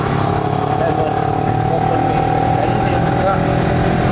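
A steady motorcycle engine drones under heavy wind rush heard through an open-face helmet, a continuous low hum and broadband roar, with a voice faintly present beneath.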